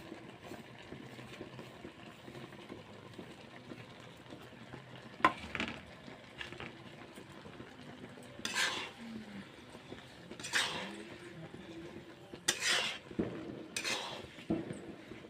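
Whole spices fry in a pan for a sweet, sour and spicy chalta (elephant apple) pickle, a low sizzle running under scattered scrapes and clinks as a spoon stirs against the metal. No one speaks.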